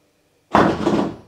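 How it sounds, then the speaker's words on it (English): A Tesla's front trunk bonnet pops open on a voice command: after half a second of quiet, a sudden loud thud of the latch and lid, dying away over the next second with no talking. "hey Siri, open Tesla bonnet."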